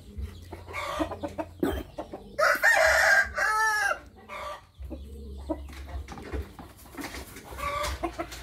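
Farmyard chickens cluck nearby while a rooster crows loudly twice in the middle, with scattered clucks before and after and no speech.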